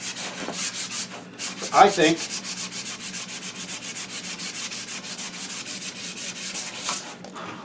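A wooden stick is sanded by hand with steady, rhythmic back-and-forth rasping strokes, close and continuous for several seconds, with a brief spoken word partway through.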